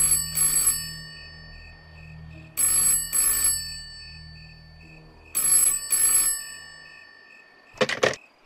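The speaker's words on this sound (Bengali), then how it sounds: "সন্ধেবেলা হঠাৎ অম্লানের ফোন" A telephone rings in the evening: bright electronic ring bursts come in pairs with short pauses, repeating three times, followed by a brief clatter as the handset is picked up.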